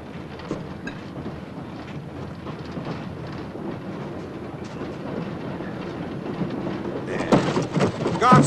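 A train rolls steadily along rails in a 1972 western film, giving a continuous rumbling clatter of wheels and carriages that swells louder and busier toward the end.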